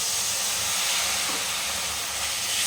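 Water poured into frying chicken kosha masala makes a loud, steady, close hiss of sizzling and steam that runs unbroken throughout, with no talk.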